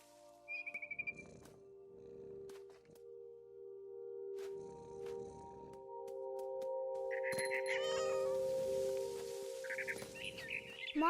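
A cat's meows and soft purring sounds come and go over a low sustained musical drone, with scattered chirps and clicks, no voices, in the video game What Remains of Edith Finch.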